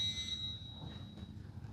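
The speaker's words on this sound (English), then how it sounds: "That is an annoying beep." A shrill, steady electronic beep rings for about a second and fades, over a low background rumble.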